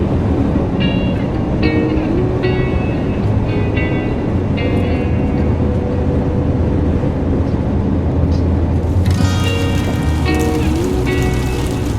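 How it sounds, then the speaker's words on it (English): A passing train rumbles steadily and loudly, with high metallic squeals rising above the roar near the end; no one speaks. "we got ourselves a train coming through"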